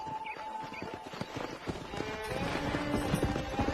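Horse hooves gallop in Red Dead Redemption, a fast irregular clip-clop of hoofbeats under a faint musical tone and ambient game sound, growing slightly louder toward the end.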